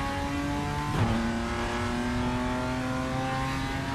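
BMW M2 CS racing car in RaceRoom, its engine holding a steady strained note under throttle with a brief gear-change dip near the one-second mark, loud and close throughout.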